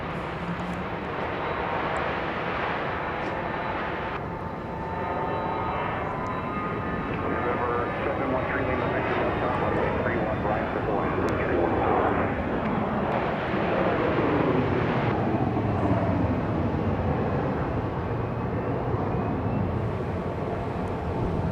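An airliner takes off at Dallas Love Field, a steady loud roar of jet engines that sustains and swells slightly over about twenty seconds, with faint talk underneath.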